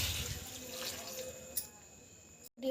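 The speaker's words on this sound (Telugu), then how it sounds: "ఒక చిన్న గ్లాస్ నీళ్ళు" Water poured from a small glass into a pan holding onions while cooking village-style tomato chutney, a brief steady splashing rush that fades after about a second and a half.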